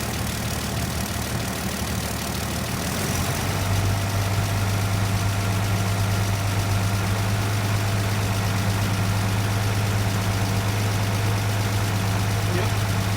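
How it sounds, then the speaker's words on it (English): A 1947 GMC truck engine idles steadily with the idle being raised, its low hum stepping up and then holding as a constant, fairly loud drone throughout. "So now I'm gonna turn the idle up a little bit more,"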